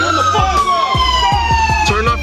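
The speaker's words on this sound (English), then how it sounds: "Turn off your sirens!" Police car sirens wailing loudly and close, a sweeping electronic tone with rapid yelp pulses toward the end, sounding alone without talk.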